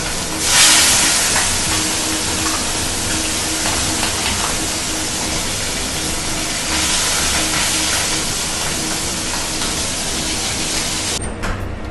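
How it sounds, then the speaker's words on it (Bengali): Tangra fish slid one at a time into hot oil, a loud, continuous broad hissing sizzle that flares at the start and holds steadily throughout, with no speech. "দেখুন আমি এবার তেলে একটা একটা করে মাছ দিতে শুরু করেছি।"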